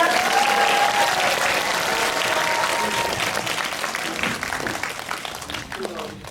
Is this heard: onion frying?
no